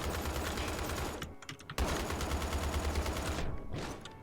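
Rapid, dense video-game gunfire from People Playground, a continuous automatic rattle of bullet impacts with two brief pauses, loud and sustained throughout.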